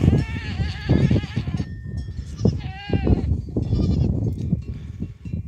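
Goats bleat repeatedly while drinking at a pool high in a mountain sierra, several close, overlapping calls in an uneven stream with brief pauses between bursts.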